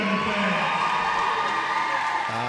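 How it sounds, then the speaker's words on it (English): Crowd cheering and whooping from spectators at a women's roller derby bout, a steady loud roar of voices that stays constant throughout, with some shouting mixed in. "Swish Caraboom loves the crowd cheering."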